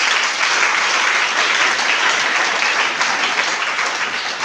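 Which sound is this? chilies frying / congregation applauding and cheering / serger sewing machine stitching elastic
congregation applauding and cheering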